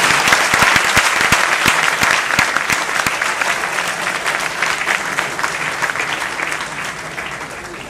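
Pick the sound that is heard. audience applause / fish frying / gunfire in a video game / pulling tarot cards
audience applause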